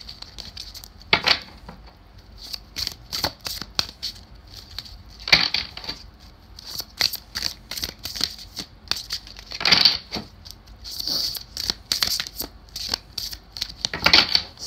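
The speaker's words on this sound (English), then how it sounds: "this is a new deck. It's a little bit tough to shuffle." A stiff new deck of tarot cards is shuffled up close, with repeated crisp riffles and flapping bursts broken by short pauses and a few soft taps as the cards settle.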